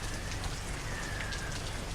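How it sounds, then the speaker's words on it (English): Heavy rain pours down steadily on a stormy night, a dense, continuous hiss of drops hitting surfaces with no break. "It was still pouring down rain"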